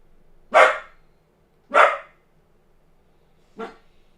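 Three close, loud single barks from a dog, the first two about a second apart and the last slightly softer after a short pause, with a quiet room behind and no talking.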